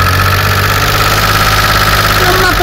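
An off-grid power generator engine runs steadily at about 2000 rpm, a loud continuous mechanical drone with a low hum and a faint knocking texture, close and unbroken throughout with no talk.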